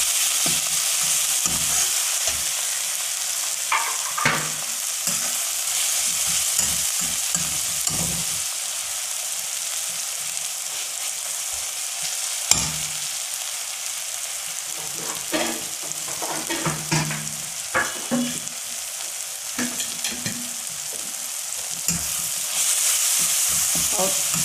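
Tomatoes with salt frying in a pan for paneer bhurji, a steady loud sizzle running throughout with scraping, clattering stirring strokes breaking in now and then.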